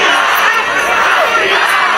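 Stadium crowd roaring and chanting for Raphinha of Brazil's national football team, a dense, loud, continuous wall of voices from a large distant mass of fans.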